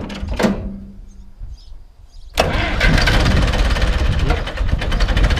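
An Ursus C 360 tractor engine, rebuilt and started cold, gives a few cranking clanks, then catches abruptly and settles into a loud, rough, knocking diesel idle close by.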